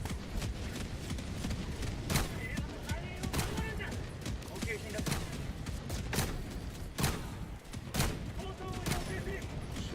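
Video game gunfire from a shooter: repeated sharp shots and bursts recur through a dense, busy mix of game effects, with talk running underneath.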